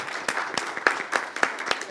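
Audience applause at a finance talk, with sharp clap bursts scattered over a steady wash of clapping, moderately loud and fairly close, with no voices above it.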